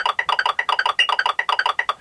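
A metronome ticking triplets, eighths and sixteenths all at once, a dense, rapid, overlapping chatter of sharp clicks at different pitches, close and fairly loud with no voices.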